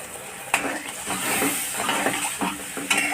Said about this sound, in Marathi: बघा छान उकळी आली आहे.